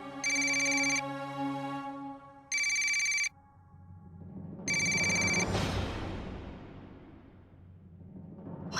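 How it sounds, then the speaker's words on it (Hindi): A phone ringtone sounds in three bursts of a repeating electronic melody, loud and close, over a swelling musical background. "मनीष, ये मुझे क्यों फोन कर रहा है?"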